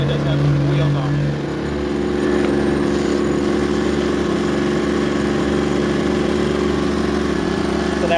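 A Pulsar GX400BN inverter generator runs with a steady, close engine hum at constant speed. A brief higher tone sounds near the start.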